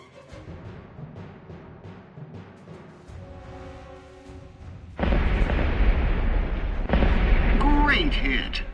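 Bombs hit an airfield in War Thunder, first a quieter rumble and then two heavy, sustained blasts that roar loudly to the end.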